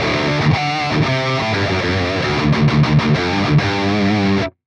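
Electric guitar played through a boost effect on a Line 6 POD Express, feeding a PV5150 amp model, with driven, saturated chords and single notes ringing steadily for about four seconds before stopping abruptly.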